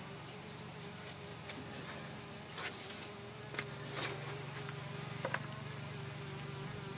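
A wasp buzzes close by during brake work on a 1955 Panhard Dyna Z1, its drone fading in and out, with a few light taps and clicks nearby.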